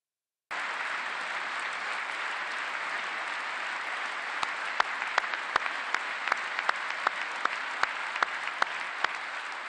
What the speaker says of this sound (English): Sorry, I forgot to cut out the clapping.